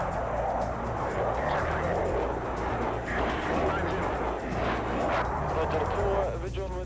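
An F-16 Falcon jet after a high-altitude bomb drop gives a loud, steady, rushing roar that fills the whole clip, with a narrating voice over it.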